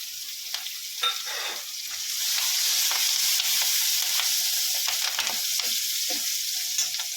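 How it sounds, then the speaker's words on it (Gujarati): Green chili and curry leaves hiss and crackle in hot oil with ginger and garlic for Gujarati khatta mag. The sizzle is loud, close and continuous, swelling a little as they settle, with faint stirring clinks. "આદું લસણ થઈ જાય એટલે એક મરચું અને લીમડો નાખશું આપણે"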